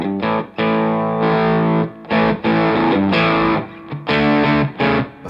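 Electric guitar through a Stumpbox fuzz pedal in a Fuzz Face style, thin and buzzy with little bass, played as sustained distorted chords and notes in loud, close phrases with short gaps between them.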